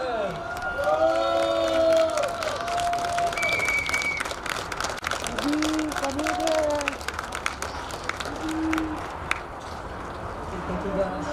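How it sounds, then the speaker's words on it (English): A crowd at an international kart racing event in Cheb, Czech Republic claps and cheers continuously, with scattered shouts and whistles rising over the applause and a voice talking through it, fairly loud and sustained throughout. "Big applause for them."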